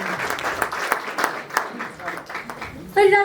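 An audience applauds martyrs at a Hindi poetry recital, a dense burst of clapping with sharp individual claps that fades out before a voice begins at the end.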